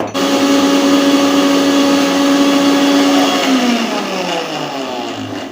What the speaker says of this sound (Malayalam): മിക്സിയിൽ ചെറിയ ഉള്ളിയും തക്കാളിയും ഇഞ്ചിയും വെളുത്തുള്ളിയും നന്നായി അരച്ചെടുക്കണം